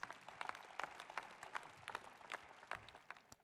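A congregation at a religious service gives a round of applause for Jesus Christ: scattered, uneven claps heard faint and somewhat distant, with sharper individual hand strikes popping out from a soft crowd bed.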